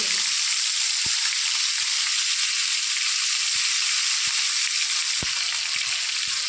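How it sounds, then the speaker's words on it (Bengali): Bombay duck (loitta) fish pieces fry in hot oil in a pan with a steady, loud hissing sizzle and a few soft scattered taps. "তিনটে চারটে করে মাছ দিয়ে আমি লাল লাল করে ভেজে নেবো"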